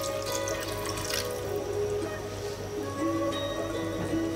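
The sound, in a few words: water poured into pot with chicken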